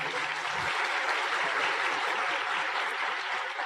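An audience claps together at a seminar, a dense, steady wash of applause that fills the room for several seconds without a break.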